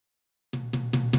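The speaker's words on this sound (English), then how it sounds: "This tom sound like this, soloed." Four solo tom drum hits spaced evenly after a half-second of silence, each a punchy low thud with a ringing tail, loud and close.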